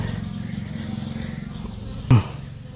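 Bees swarming around a young nest being broken open outdoors make a steady, close, low droning buzz, interrupted near the end by one sharp knock.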